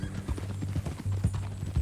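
Horse hooves clip-clopping at a steady walking rhythm, close by, a brief run of hollow knocking steps with a low tone beneath.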